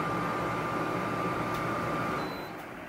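A dehumidifier runs with a steady hum and constant high tone throughout, then softens slightly near the end, like an appliance winding down.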